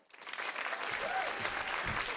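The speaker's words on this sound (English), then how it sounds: "let's give another big round of applause to Aaron and Tilly." A live audience at a dance competition show applauds the performers, a thick, continuous clapping that swells in quickly and holds steady, moderately distant.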